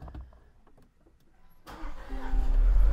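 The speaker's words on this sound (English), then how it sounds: "should we see if the car starts?" A Land Rover Defender L663 sits quiet with faint clicks, then its engine cranks and fires up about halfway through, settling into a growing idle.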